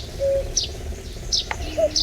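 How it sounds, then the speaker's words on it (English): Cuckoo-like bird calls in The Night of the Rabbit adventure game, a few short chirping notes spaced over a soft ambient background, fairly faint with no talk. "A cuckoo."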